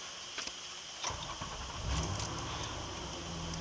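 A cold car engine cranks and catches, then settles into a steady low idle, heard close up with no talking.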